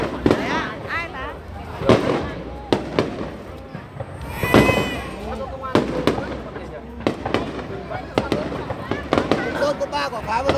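Fireworks and firecrackers bursting at a Ban flower festival in a Iu Mien community, a dense run of sharp bangs and crackles at close range, with people talking and calling out throughout.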